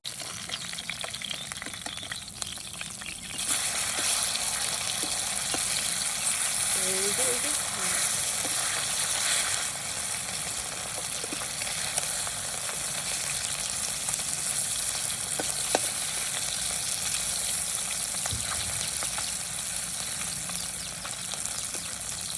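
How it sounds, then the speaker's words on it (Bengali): Small katla fish fry in a pan with a steady, broad sizzle that holds from a few seconds in to the end, fairly close and even, with faint talk in the background. "মাছটা ভাজা হয়ে গেছে, তুলে নিচ্ছি।"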